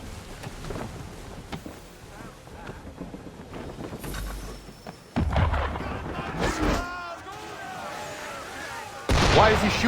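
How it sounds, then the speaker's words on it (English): Cannon fire against a ship at sea in Assassin's Creed III Remastered, heavy booms and low rumbling blasts over wind and water, with a sharp burst near the end; a voice speaks. "Why is he shooting at us?"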